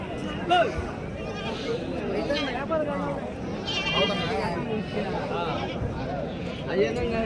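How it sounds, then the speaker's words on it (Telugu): Lambs and young goat kids bleating at a busy goat market in Galivedu, repeated overlapping bleats near and far over a crowd's chatter and voices talking. "గొర్రె పిల్లల మేక పిల్లలు ఇవి"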